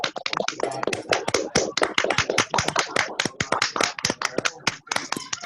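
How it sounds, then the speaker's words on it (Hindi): Audience at an indoor product training session gives loud, enthusiastic applause, dense sharp hand claps packed together and sustained close to the microphone without pause. "एक बार जोरदार तालियां"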